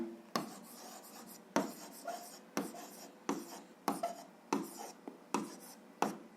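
A pen writing an answer on paper during an algebra lesson, about seven short quiet scratching strokes in an even rhythm, close and faint, with no voices.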